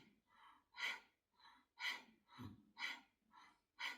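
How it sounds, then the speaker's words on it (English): Rapid, forceful bhastrika yoga breaths pump in a steady rhythm, about two bursts per second, each sharp huffing exhale close and loud with no talking. "And the Bhastrika sounds like this."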